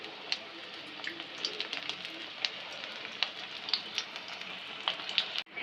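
Raw potato fritters fry in hot oil with a steady crackling sizzle dotted with sharper pops, close and moderately quiet, ending with a soft clunk.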